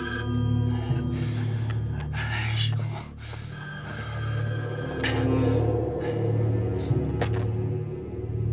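A telephone rings in repeated bursts, its ringing rising and falling in a steady cycle, with faint voices and movement in the background.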